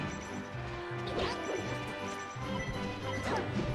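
A forward smash lands in a Super Smash Bros. Melee doubles match, with several sharp crash and thwack hits among steady game sound and music, and commentators faintly underneath.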